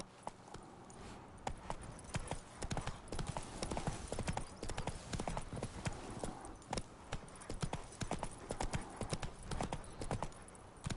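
Horse hooves clip-clopping at a steady riding pace in The Witcher, a continuous rhythmic run of sharp, close hoofbeats over faint background sound.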